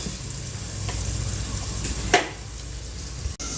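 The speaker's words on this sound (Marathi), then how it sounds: "आपला कांदा छानपैकी फ्राय झालेला आहे" Chopped onion fries in a pan for a moringa rasam, giving a steady soft sizzle with one brief clink of a utensil.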